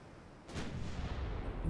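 A Mark 5 20-inch naval gun salvo in Ultimate Admiral Dreadnoughts, one sudden heavy boom that rolls into a low rumbling tail, fairly faint.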